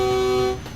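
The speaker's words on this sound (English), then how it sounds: "What's my horn like" A truck horn in Euro Truck Simulator 2 sounds one steady, loud, held tone for about half a second, then cuts off, leaving quieter engine and road noise underneath.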